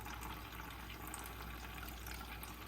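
Almond milk straining through cloth, a steady soft trickle of liquid running continuously at close range with no talking.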